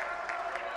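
Basketball arena crowd roaring and applauding after back-to-back slam dunks in a Panthers game, a dense, steady wall of cheering with a couple of brief swells, continuous through the short moment.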